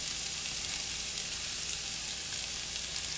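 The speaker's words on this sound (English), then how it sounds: "you're gonna saute this for a little bit" Boiled lobster pieces, yellow peppers and scallions sizzle steadily in a hot pan, a close, even frying hiss with no talk, ending in a brief louder clatter.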